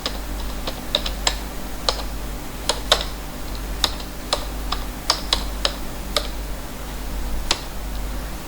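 Keystrokes on a computer keyboard as a chart title is entered, a steady scatter of separate clicks with short pauses between them, close and clear over a low constant hum.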